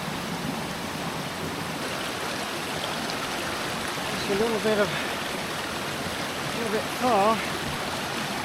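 Flowing river water streams steadily on a wild camping trail, a continuous close wash of current under brief snatches of talk.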